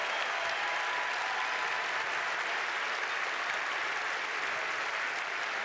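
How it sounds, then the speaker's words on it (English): A large commencement audience of graduates, families and supporters gives sustained, loud, even applause for faculty and staff, a dense wash of clapping that holds steady throughout. "let's give our faculty and staff a great round of applause"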